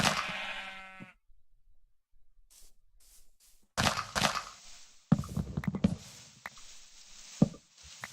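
A single sheep bleat from the Minecraft video game opens, clear and alone, followed by quiet and then scattered in-game knocks and thuds.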